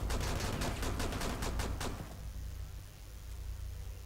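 Rapid bursts of shotgun fire in a Rainbow Six Siege team deathmatch on the Coastline map, a dense volley of sharp blasts for about two seconds before trailing off into a low ambient rumble.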